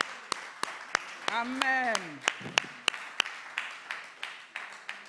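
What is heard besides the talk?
congregation applauding in church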